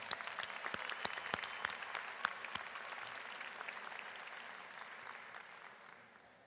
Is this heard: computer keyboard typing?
no